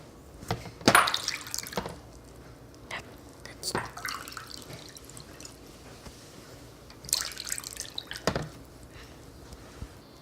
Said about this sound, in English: Now we're going to add water.